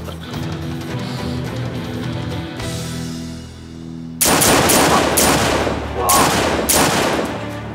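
Gunshots ring out in a tense Turkish drama standoff, several loud sharp bursts fired in rapid succession after a stretch of quieter dramatic music and ambience.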